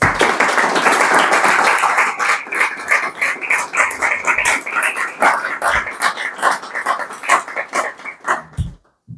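Audience applause for a priest after a talk, loud dense clapping from a crowd that gradually thins into scattered individual claps before stopping.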